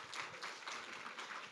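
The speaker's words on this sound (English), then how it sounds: "Maybe applause again for Ashikur." An audience at a general assembly gives a brief burst of steady, moderately distant applause, continuous clapping throughout with no speech.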